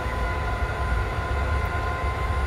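S-Bahn train in Train Simulator 2020 on the single-track line from Leipzig toward Bitterfeld, a steady close, loud rumble and roar of running rail traffic with no talk.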